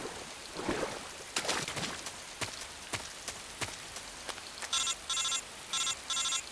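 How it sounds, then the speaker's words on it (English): Incoming call ringing in the stealth video game Metal Gear Solid 3: Snake Eater, a series of electronic ring bursts in the last two seconds, preceded by crackly, rain-like game ambience and sharp clicks. "Oh, we got a phone call."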